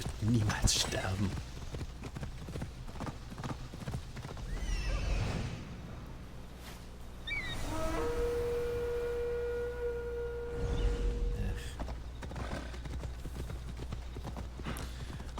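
Hoofbeats from a horse in Assassin's Creed Odyssey pound in a quick rhythm, joined by a clear neigh and a sustained tonal game effect in the middle, with someone talking at times over it.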